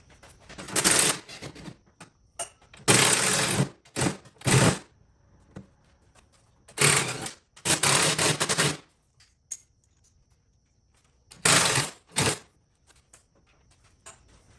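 Screws being loosened around the bottom of the tank of a Magnum 4000 hot pressure washer, heard as several short bursts of rapid mechanical rattling separated by quiet pauses, close and fairly loud.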